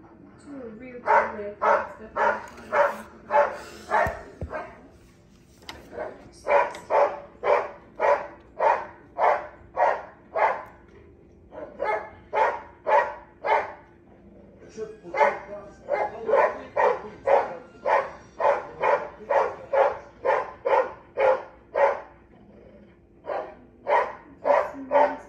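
Several dogs in a household pack bark back and forth at each other in rapid, rhythmic bursts, loud and close, with brief gaps between volleys and a whimper near the start.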